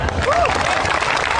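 Audience applause at an Indonesian memorial sholawat gathering honouring Gus Dur with a preacher, a dense, steady wash of crowd clapping throughout, with a faint voice cutting through briefly.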